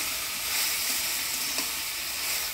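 Chopped young bottle gourd, rinsed, frying in a pan with turmeric and salt after black cumin tempering, giving a steady close sizzle with faint scraping of stirring throughout, no voices.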